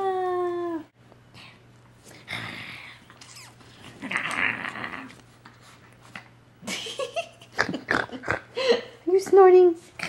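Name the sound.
dog snorting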